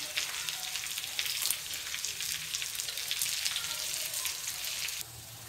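Ginger, garlic and curry leaves sizzle steadily in a hot pan while being stirred, a dense continuous crackle with small scrape bumps, close, easing off slightly near the end.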